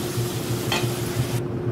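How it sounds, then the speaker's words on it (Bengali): Onions and tomatoes frying in a pan in a Bengali home kitchen, a steady close sizzle with the scrape of stirring and one brief sharper hiss midway. "পেঁয়াজ টমেটো ভালো করে ভেজে নিচ্ছি।"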